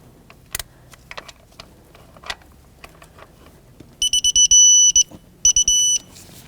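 A torque wrench tightens the lower starter bolt on a 2003-2008 Subaru Forester 2.5L H4 to 37 foot-pounds: a few scattered ratchet clicks, then several bursts of sharp, high, steady beeping near the end.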